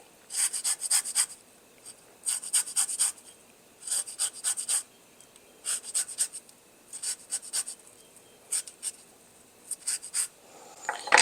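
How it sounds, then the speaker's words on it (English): A lemon zested on a kitchen grater while cooking Mediterranean orzo with tempeh: short bursts of dry, rhythmic rasping strokes, close and clear, with brief pauses between passes and no talking. "Put a little zest in here."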